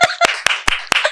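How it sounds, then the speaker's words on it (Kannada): Hands clap about five times in a podcast studio, each clap sharp and close, spaced out in a quick, slightly uneven rhythm. "ನಾನು ಹೊಡ್ಕೊಂಡ್ಬಿಡ್ತೀನಿ ಚಪ್ಪಾಳೆ ಹೋಗಿ."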